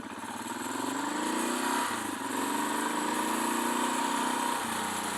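A motorcycle riding after work on the bike, its engine droning steadily close by with rising and falling pitch as it accelerates and eases off, plus a short dip midway.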